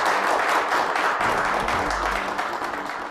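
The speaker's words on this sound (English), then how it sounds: "Can we give those people a round of applause?" Audience applause at a school gathering, a dense wash of clapping heard from a distance, steady and moderately loud, with a low rumble partway through.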